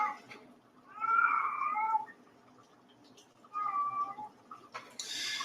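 A female cat in heat meowing, two drawn-out, loud, yowling calls close by with a quiet gap between them, the first longer than the second, ending in a brief noisy rustle.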